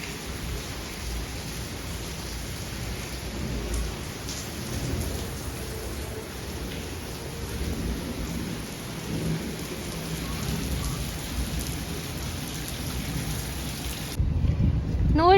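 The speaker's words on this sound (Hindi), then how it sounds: "अच्छी खासी बारिश हो गई है" Heavy rain pours steadily with rolling thunder underneath, a dense, continuous roar at night that stays loud throughout and ends with a brief louder burst of noise.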